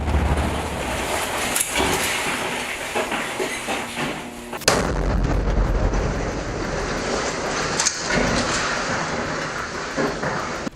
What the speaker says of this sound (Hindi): अल कासिम का लड़ाका रिमोट से उस बम को उड़ा देता है।